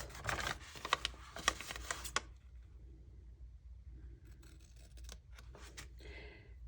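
Scissors trim the edge of a paper page in an Alice in Wonderland craft journal, giving a cluster of close, crisp snipping and cutting sounds over about two seconds, followed by quieter handling rustles.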